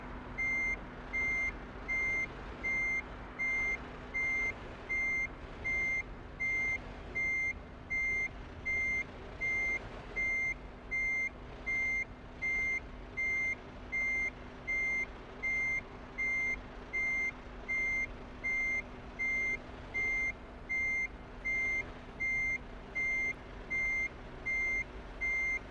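A truck reversing while parking in Euro Truck Simulator 2, its steady repeating backup beeps sounding at an even rhythm throughout over a low idling engine hum, with no talking.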